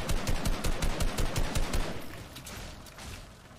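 Rapid automatic gunfire in a video game, a quick run of loud evenly spaced shots, then a fading echoing rumble.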